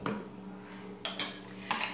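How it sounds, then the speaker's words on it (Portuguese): A metal lid goes onto a pressure cooker with a few close, light clanks and scrapes of metal on metal, spaced out over two seconds in a quiet kitchen. "agora eu vou tampar aqui a panela de pressão"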